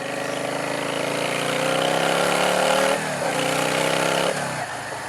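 Motorcycle fitted with Vance & Hines Short Shots exhaust, idling loud and close with a throaty rumble, blipped up in revs twice before settling back, no voices.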